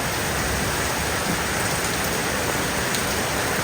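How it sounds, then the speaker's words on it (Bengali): Sudden rain pours down steadily, a dense, even hiss of drops on surfaces with no let-up and no voices. "হঠাৎ বৃষ্টি চলে আসছে"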